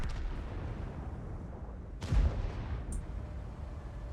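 An ammo rack exploding inside a heavy tank in a tank video game: one loud, deep boom erupts midway through, rising out of a steady low rumble of engine and battle noise, then fading back into it.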